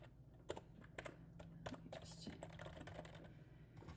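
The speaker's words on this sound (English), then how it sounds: "You can type them in any way you want." Fingers type on a computer keyboard, quiet, rapid, irregular key clicks running continuously at close range.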